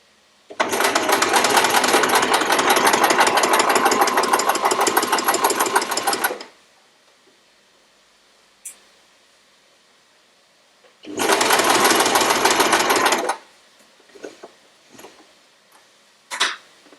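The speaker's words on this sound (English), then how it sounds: "you do have to sew from that point to that point to create the perfect triangle" A sewing machine stitches pieces of a quilt in two bursts, a long steady run of rapid needle chatter followed after a pause by a shorter run, with a few soft handling clicks afterward; close and fairly loud, no talking.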